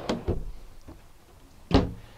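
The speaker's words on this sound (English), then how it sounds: "This one has a pull-out drawer that comes out all the way." A pull-out drawer in a 2011 Komfort travel trailer being opened, heard as a few short, close clunks and slides: two quick knocks, a faint one, then a louder bump near the end.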